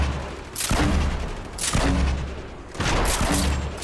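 Shotgun fire in a video game: three heavy, booming blasts spaced about a second apart, loud and close, each followed by a rumbling tail.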